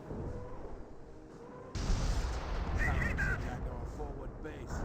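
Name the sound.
artillery barrage in Company of Heroes video game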